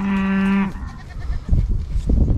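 A single loud goat bleat sounds up close on a farm, held as a steady wavering cry for about half a second before breaking off into rustling and outdoor noise.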